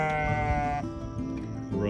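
Sheep in a pasture give loud, close bleats, one long wavering call followed by shorter overlapping bleats from the flock.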